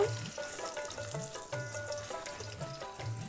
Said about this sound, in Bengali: রসুনটাকেও ভালো করে ভেজে নিব।